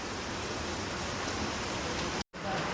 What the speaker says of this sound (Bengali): দেখো বৃষ্টির জলটা পুরো হাত বেয়ে বেয়ে পড়ছে।